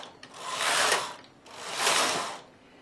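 Knitting machine carriages being set and slid across the bed, two long, smooth whooshing passes with a mechanical rattle, loud and close, separated by a brief pause.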